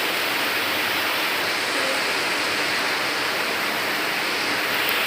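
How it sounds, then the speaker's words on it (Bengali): Steady rain falls outdoors in a dense, even hiss that holds constant and close throughout, with no voices over it. "বাইরে দেখো বৃষ্টি করছে।"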